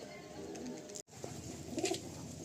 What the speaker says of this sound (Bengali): এই যে পায়রা দাদা, সাদা পায়রা